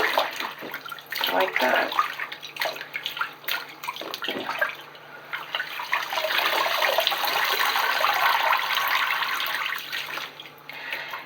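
Previously worn dreadlocks being sloshed by hand in washing water, a steady close splashing and swishing that runs through most of the stretch, briefly under a few spoken words.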